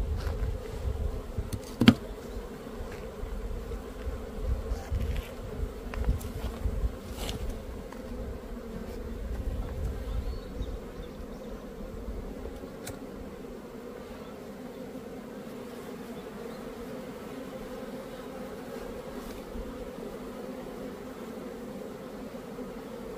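Honeybees swarm and drone around a hive, a dense continuous buzz with occasional louder passes of single bees close by, fading to a steadier, softer hum in the latter half; no talking.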